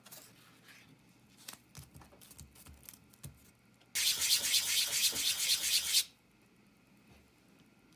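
Hand sanding with sandpaper on a 1966 Ford Mustang rear quarter window part: soft scattered rubs and scrapes, then a steady, loud two-second stretch of rapid abrasive strokes, up close.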